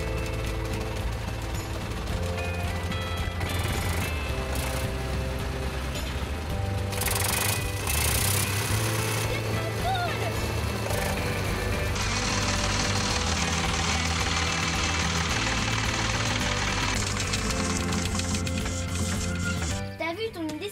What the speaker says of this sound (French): on pousse ça pour démarrer le tracteur